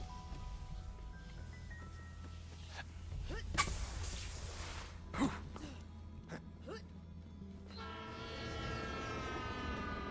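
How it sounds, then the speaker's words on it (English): A train rolls along an elevated monorail inside a cave in Borderlands 3, rumbling under game music with sharp clanks and a horn-like tone near the end. "There's a train in a cave on an elevated monorail."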